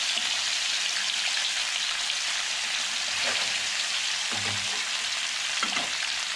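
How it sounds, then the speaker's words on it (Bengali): Katla fish pieces frying in hot oil, a steady loud sizzle with some crackle and a few stirring scrapes, no voices. "আমি ধীরে ধীরে মাছগুলো দিয়ে দেব। বেশি কড়া করে ভাজতে হবে না"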